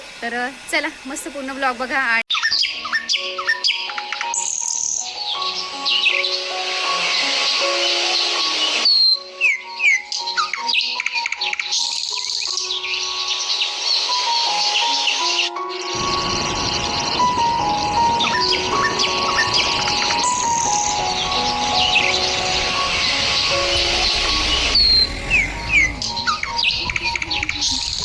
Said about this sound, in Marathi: तर मस्त छान छान पक्ष्यांचा किलबिलाट तुम्हाला ऐकलं असेल.